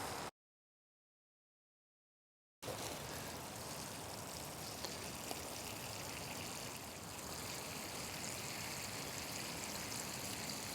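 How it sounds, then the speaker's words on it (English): New plants in a kitchen garden drenched by hand, a steady, soft rush of pouring water running continuously after a brief silence, close but quiet, with no voices. "I always like to drench the new plants by hand."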